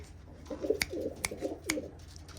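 Pigeons coo nearby in a low, throaty, repeating warble, punctuated by three sharp clicks, as pigeons settle on their loft in Punjab.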